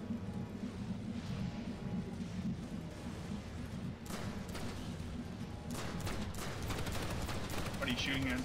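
Gunfire in a PS2 video game: bursts of shots and a rattle like a machine gun, rising from about four seconds in. A steady low rumble sits underneath throughout, and the shots are fairly quiet.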